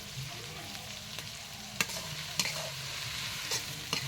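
Chopped onions and chilies frying in oil with salt, a steady sizzle under sharp clinks and scrapes of stirring at irregular intervals, close and moderately loud with no talking.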